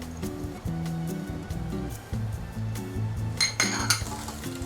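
Dumpling filling mixed in a bowl with black pepper, garlic and ginger, giving steady clinks and scrapes of utensil against the bowl, continuous and close, with a brighter burst of clatter near the end.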